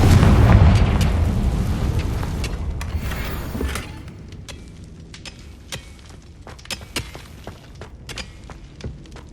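A Confringo fire spell erupts with a loud, deep explosion in Hogwarts Legacy, its rumbling boom fading over a few seconds into scattered crackles, pops and small clattering debris.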